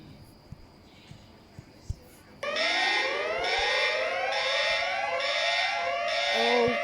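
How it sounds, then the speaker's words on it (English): A mock emergency alert system tone starts abruptly after a few faint clicks, a loud repeating electronic alarm with rising sweeping pitches pulsing in a regular rhythm, alone and close. "It's actually my ES alarm, but it's a mock."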